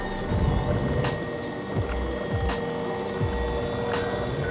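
A Penn Hooker electric fishing reel winches line up from 120 metres deep while deep dropping, a steady mechanical whir over boat engine rumble and wind, with no voices.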